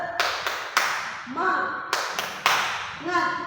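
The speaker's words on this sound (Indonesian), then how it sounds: "Tepuk semangat." A class does a rhythmic "tepuk semangat" spirit clap as an ice-breaker: sharp patterned claps in short clusters, mixed with chanted voices answering in unison, moderately close.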